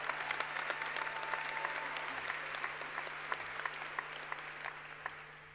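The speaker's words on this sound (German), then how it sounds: "Jetzt dürfen Sie noch jeden klatschen." Audience applauding at a university graduation ceremony at MCI Management Center Innsbruck: dense, sustained clapping from a large crowd in a hall, fairly distant and even throughout, with no talk over it.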